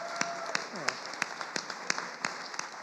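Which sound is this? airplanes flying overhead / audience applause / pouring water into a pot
audience applause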